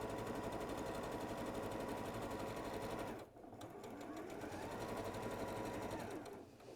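A sewing machine stitches around a skirt waistband in a fast, steady whir, broken by a short pause near the middle before running on again, close and loud with no talk.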